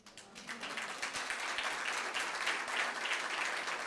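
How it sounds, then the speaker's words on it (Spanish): Church congregation clapping together, the applause building quickly from a softer start into a sustained, even roar of many hands, with no talk over it. "¿puedes aplaudir que viene Él?"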